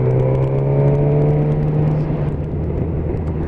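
A Suzuki GSX-S 1000 motorcycle rides along a road with a loud, steady engine drone and a strong low hum, holding an even pitch throughout with faint wind noise.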